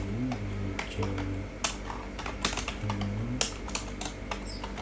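Close, fairly loud keystrokes on a computer keyboard tap in uneven bursts while database entries are typed, with a faint tonal hum underneath and no speech.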